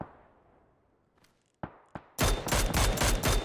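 Mini14 rifle fire in PUBG, two distinct close shots, then a rapid loud burst of overlapping gunfire in a dense clattering volley, with no talk.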